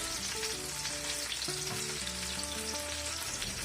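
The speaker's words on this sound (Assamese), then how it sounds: "এনেকৈ ফ্ৰাই কৰি থাকিব অলপ প্ৰেছ কৰি কৰি" Pointed gourd slices fry in a pan over medium heat and are pressed down as they cook, giving a constant, close sizzle with faint clinks from utensils and no voices.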